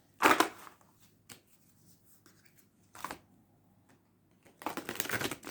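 A few separate bursts of tarot cards being riffled and shuffled, with quiet pauses between them, close by.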